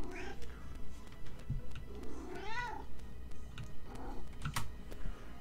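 A hungry pet cat meows repeatedly in a room, its rising and falling cries standing out over a steady low hum, with light keyboard typing clicks scattered throughout.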